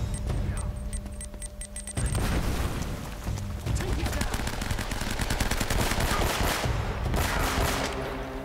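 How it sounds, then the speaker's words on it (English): Loud, dense gunfire with rapid bursts and booming grenade blasts in Uncharted: Drake's Fortune, the shots rattling almost continuously with heavy low thumps throughout. "How are you throwing these grenades?"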